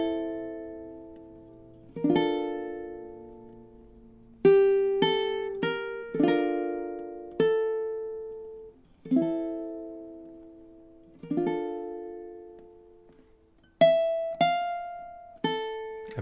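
A ukulele plays a passage of a song with clear plucked notes and strummed chords ringing out and decaying one after another at a gentle, unhurried pace, with no voice.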